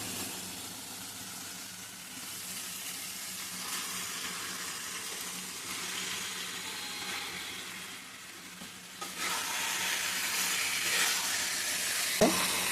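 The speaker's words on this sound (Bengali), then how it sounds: "এবার আমি কেটে রাখা মাংসগুলো দিয়ে দিব।" Chicken pieces fry in a spice masala with a steady, close sizzling hiss that swells louder partway through, with a brief sharp clatter near the end; no one speaks.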